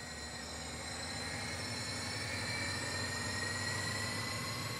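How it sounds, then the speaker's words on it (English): Interior rumble of a southbound passenger train in a double-deck gallery car on the Peninsula Corridor line of the San Francisco Bay Area, in a train game: a steady, low, continuous roll with faint tonal hum and no voices. "You are currently riding in a double-deck gallery car on a southbound service."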